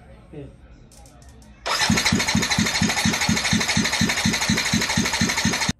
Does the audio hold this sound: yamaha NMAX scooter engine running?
yes